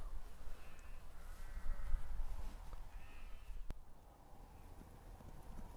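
Sheep and lambs on a farm bleat several times at moderate distance, the calls rising over a low rumble of outdoor noise and a scuffle of hooves.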